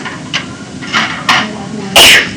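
Someone sneezes in a classroom during an algebra lesson, a few sharp bursts with a loud final one, close and brief amid quiet room noise.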